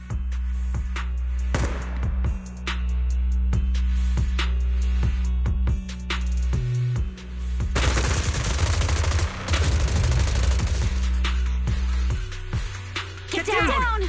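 Rapid bursts of suppressive marching gunfire from the video game Zenless Zone Zero crackle over a low droning rumble, with heavy sustained volleys in the middle and sharp isolated shots around them.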